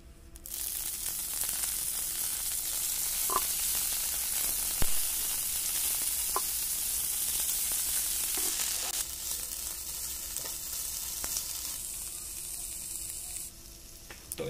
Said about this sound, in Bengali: এখন ধনিয়া পাতাগুলো একটু তেলে হালকা ভেজে নিতে হবে।